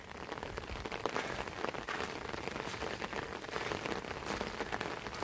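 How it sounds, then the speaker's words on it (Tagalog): Steady rain patters on the ground with a dense, even hiss of drops, and rainwater runs along a damaged path; the sound is faint and continuous, with no voices. "Yung tubig ulan."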